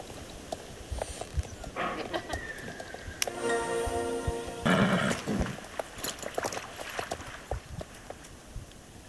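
A horse in the Star Stable video game gives a loud neigh midway through, along with scattered hoof clip-clops and game effect sounds, with no talking.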